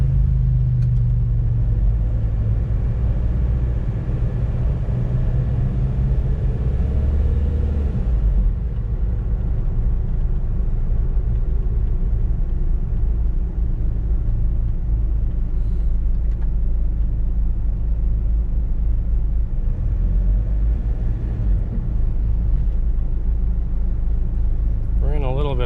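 A 1994 Ford Spectron diesel 4WD truck moves through stop-and-go traffic, its engine a steady low rumble with a smooth drone and a lighter stretch after the first few seconds, while someone talks over it throughout.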